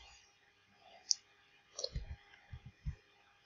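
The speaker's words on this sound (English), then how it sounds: "I hit the plus key." A keyboard key is pressed to zoom in Inkscape, giving a few faint, quick clicks and taps, soft and close, with no talking.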